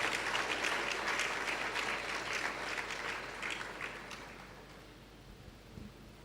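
A church congregation applauding, a broad wash of clapping that starts loud and full and then gradually thins and fades over several seconds.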